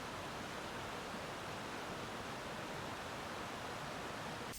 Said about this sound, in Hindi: सामने गिरता हुआ वो झरना